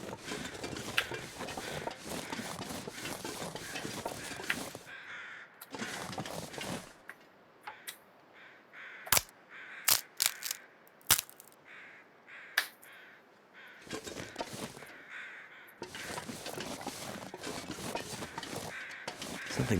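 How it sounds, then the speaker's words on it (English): Several crows caw in The Long Dark survival game, with harsh calls in dense repeated bursts at the start and end and scattered single caws and clicks in between, fairly close and loud, no talk. "Those crows are kind of driving me nuts"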